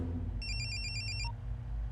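A phone rings while a call is being placed, a faint, bright electronic trilling burst lasting under a second over steady low background hum.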